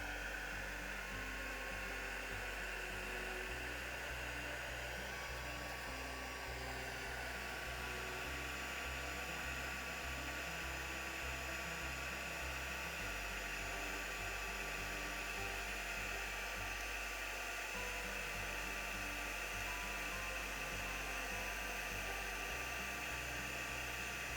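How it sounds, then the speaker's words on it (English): A heat gun runs steadily at close range for the whole stretch, a constant loud airy whoosh with a faint underlying motor hum and slight pitch shifts as it is moved over a resin scene. "get our heat gun going"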